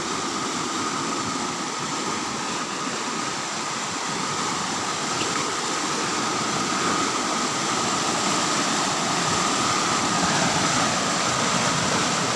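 Strong current of the Cijalu river rushing through a forested setting, a continuous broadband roar of churning water, steady and even with no talking.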